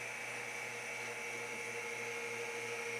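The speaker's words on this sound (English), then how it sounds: "We'll turn the vacuum former on and vacuum that down nice and tight." A vacuum former pulling heated plastic down over a foot cast to shape a shoe orthotic shell, running as a steady, fairly faint mechanical whine and hum with constant pitch, no talking.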